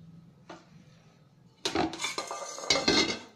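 A metal utensil scrapes and clinks against a pressure cooker, with a few sharp knocks and a short busy stretch of clattering near the end.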